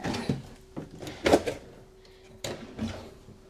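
A cutlery drawer in a 2025 Forest River Flagstaff Classic 281RK fifth wheel slides and knocks, with several short bumps and a couple of sharper clacks spread out one by one, heard close up.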